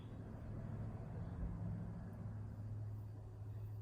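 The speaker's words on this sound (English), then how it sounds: "Oh, we're getting all the traffic noise today." Road traffic rumbles faintly in the background, a steady low wash of passing cars with no distinct vehicles standing out.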